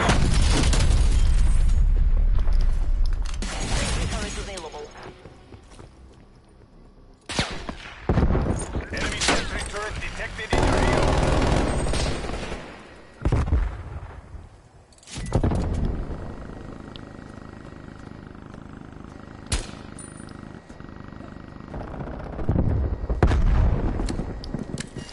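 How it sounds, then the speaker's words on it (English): Incoming artillery strike in Call of Duty, heavy booming impacts landing in loud bursts across the span, with broadband blasts separated by brief lulls, mixed with game noise and voices talking. "Hostile artillery targeting active. Net call, incoming artillery."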